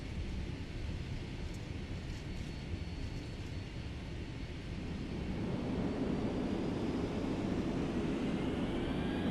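Boeing 757 landing in Flight Simulator X, a steady broadband engine and air roar that swells louder and rumbles deeper partway through as the jet touches down.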